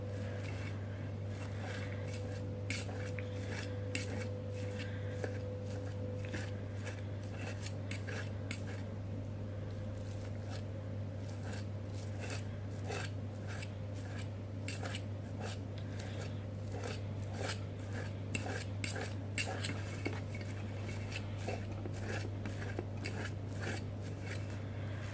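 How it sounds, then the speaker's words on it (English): Keto zero-carb mashed potatoes are mashed with utensils in a bowl: steady repeated scraping and clinking strokes go on alone for a long stretch over a constant low hum, close and fairly quiet. "It can be tiring to do to keep mashing it, but you gotta continue it, man."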